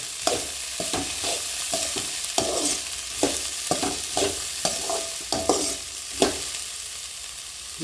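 Bitter gourd sautéing and being stirred in a pan for a Kongu-style poriyal, steady close sizzle of frying with repeated scraping strokes of a spatula every second or so.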